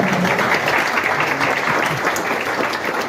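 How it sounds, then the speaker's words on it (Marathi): A crowd bursts into loud applause at the inauguration of a gold and diamond jewellery showroom in Sangamner, a thick, continuous wash of clapping filling the whole moment. "त्यामुळे टाळ्या जोरदार झाल्या"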